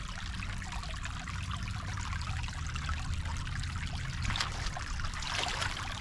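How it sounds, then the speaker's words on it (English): A small creek runs through an older part of town, giving a steady, close trickle of water that stays even for several seconds, with no voices. "This is a neat little creek."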